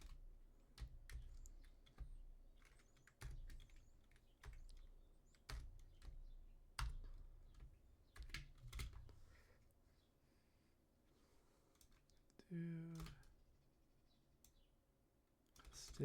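Someone types on a computer keyboard in quick, uneven runs of soft clicks, broken by pauses, along with a brief sharper clatter near the end, with no voices.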